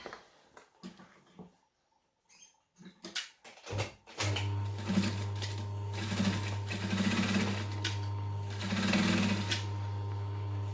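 A sewing machine stitching fabric pattern pieces for a Sweet Pea sewing pattern, starting after a few scattered handling clicks and then running in a loud, steady mechanical whir with a rhythmic pulsing hum, close up and without talk.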